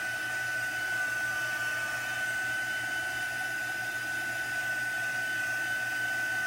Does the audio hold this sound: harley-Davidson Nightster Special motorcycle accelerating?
no